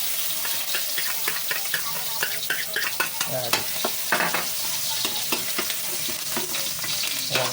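Garlic sautéing in a pan for kaldereta, a steady close sizzle with repeated spatula stirring taps and scrapes throughout; a voice speaks briefly.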